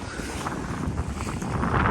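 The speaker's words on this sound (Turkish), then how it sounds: "rüzgar var" Wind rushes across the microphone aboard a sailboat under full sail at sea, engine off, a steady loud buffeting roar building slightly toward the end, with water noise beneath and no talking.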